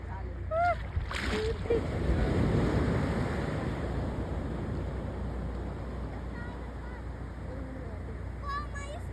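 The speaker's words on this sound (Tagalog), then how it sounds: "Laki ng alon." Big ocean waves roll and crash at Baler beach, a steady broad wash of surf with wind, while people shout and talk nearby over the water noise.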